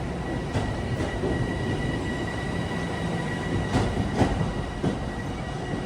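A Long Island Rail Road commuter train rumbles steadily at Jamaica station during evening rush hour, with broadband rolling noise and a few brief metallic clicks and squeals over the din.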